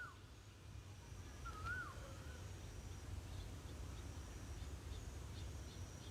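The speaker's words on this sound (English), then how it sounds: "You guys hear that in the background? That's like the bird of Thailand." A bird calls in the background somewhere in rural Thailand, a brief rising and falling whistle standing out against steady low ambient noise and a faint insect-like hum, with no talking.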